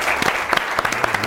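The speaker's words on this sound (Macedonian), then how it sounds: "еден аплауз за победникот" Brief burst of clapping from a studio audience for the winner of a televised European Union quiz show, dense and close, lasting just over a second.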